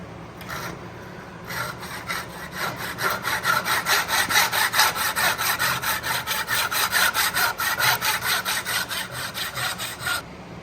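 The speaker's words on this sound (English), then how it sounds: "want to cut your kerf deep all the way till your kerf is past your bottom of your head" A hand saw cuts a kerf into a wooden axe handle in quick, regular rasping strokes, starting tentatively and then settling into a steady rhythm, close and loud with no talking.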